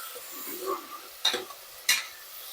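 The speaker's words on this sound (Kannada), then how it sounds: "ಫ್ರೈ ಹಿಡ್ಕೊಂಡ್ಬಿಡೋಣ ರೀ" Food frying in a pan for a home-cooked dish, with a soft continuous sizzle and a few brief sharp scrapes of stirring, two of them louder, no talk.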